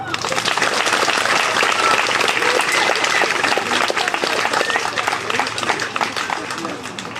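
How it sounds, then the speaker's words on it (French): Loud, dense applause from an audience at a medieval festival show in Haubourdin, France, a steady wall of clapping that holds strong for the whole stretch before easing slightly at the end. "un tonnerre d'applaudissements pour notre belle-mère du jour, Renaud"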